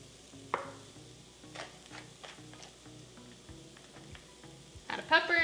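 Spiced Mexican filling is stirred in a frying pan, giving a soft steady sizzle with light scraping and tapping of the utensil, ending in a louder clatter.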